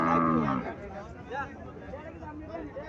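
A Friesian cow at a cattle fair in Mirshanni, Comilla, gives one loud, drawn-out moo close by, followed by people talking over a murmuring crowd.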